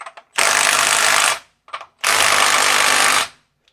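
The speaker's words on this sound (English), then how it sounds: "once it impacts, it actually shuts the tool off" A Milwaukee M12 FUEL subcompact impact wrench hammers on a bolt in two loud, close bursts of about a second each, rapid rattling impacts separated by brief clicks and a short pause.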